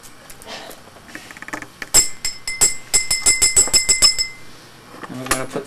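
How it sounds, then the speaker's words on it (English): A metal thrust washer and a new rear gear are handled on a bench, giving bright close clinks and a rapid series of ringing metallic taps over faint background noise. "And we're going to put the thrust washer in here."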